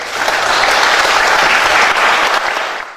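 A conference audience gives a speaker loud, sustained applause, a thick wash of clapping that holds steady and then fades out at the end.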